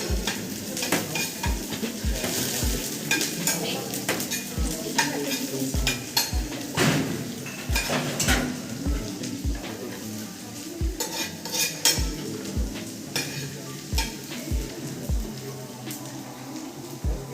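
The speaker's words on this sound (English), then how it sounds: "You cook the chopped onions till it is golden brown." Chopped onions sizzle and fry in a pan toward golden brown, with a steady spoon or spatula scraping and tapping rhythmically against the pan throughout, close and fairly loud.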